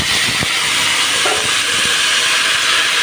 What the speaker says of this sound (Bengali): আমি তেজপাতা আর মেথি ফোড়ন দিয়েছি।